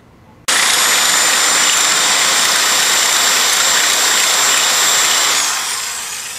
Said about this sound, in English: Now let's go ahead and drill hole number two about a half inch away from the first hole.